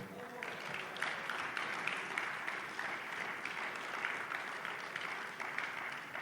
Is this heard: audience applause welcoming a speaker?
yes